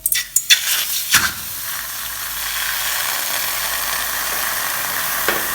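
Chicken breast dropped into a hot aluminium pot, a few sharp clatters at the start, then a steady loud sizzle that runs on to the end with no talking.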